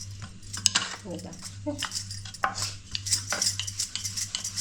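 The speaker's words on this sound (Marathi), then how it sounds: "इथे छोटासा गोळा घेतलेला आहे पिठाचा आणि ह्याला आपल्याला घ्यायचं एकदम पातळ अशी चपाती लाटून घ्यायची आहे" Thin chapati dough is rolled out with a rolling pin in a home kitchen, with repeated soft rubbing strokes and light clinks close by, over a steady hum and talk.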